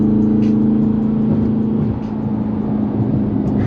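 A car on a freeway pulls alongside and accelerates as if racing, its steady engine drone loud and close, blending with road and wind noise, with no voices.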